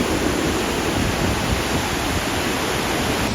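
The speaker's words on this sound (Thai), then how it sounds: "อันนี้คือน้ำตกเคกอง" Kegon Falls in Nikko roars as a dense, steady rush of water, loud and close, with no voices.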